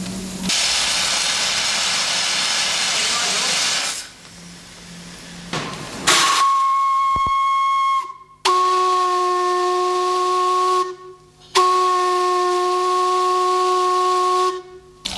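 Steam-driven Psyche Bend pumps running with the rear pump on, loud sustained steam hiss and a strong whistling tone that cuts out and restarts several times, close and without talking.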